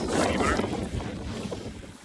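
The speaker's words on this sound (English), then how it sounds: "Did you know it's windy in Iceland?" Wind buffets the microphone outdoors in Iceland, a steady broadband roar with gusty low rumble that fades slightly toward the end.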